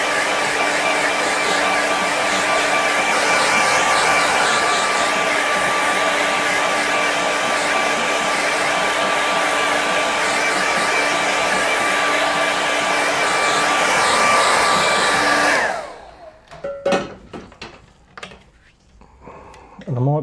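A hair dryer blows steadily and loudly over a watercolour painting for about fifteen seconds, a constant close whooshing roar with a whining hum, then cuts off, leaving quieter handling noises afterward.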